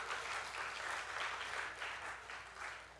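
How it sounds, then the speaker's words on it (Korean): Congregation applauding in a church service, a steady dense wash of many hands clapping throughout, fairly even in loudness with no talk over it. "감사하다고 우리 박수하겠습니다."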